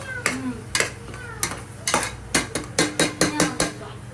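Onions stir-fried for a Tamil Nadu–style chicken dum biryani, a metal spoon scraping and clanking against the pan in a steady series of loud strokes over a low sizzle, with no talking.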